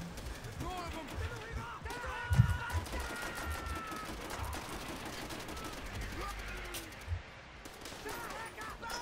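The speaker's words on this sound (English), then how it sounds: "Ow, I'm getting shot." Bursts of gunfire in the Call of Duty: World at War video game, with the player under fire from enemies up in the trees, crackle at moderate level over a busy battle bed with a sharper hit near the middle.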